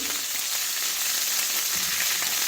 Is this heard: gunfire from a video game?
no